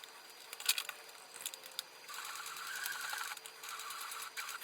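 A sewing machine runs in quick bursts, then steadily, as it stitches back along the pleats of a fabric face mask, a close, rapid mechanical patter with short pauses.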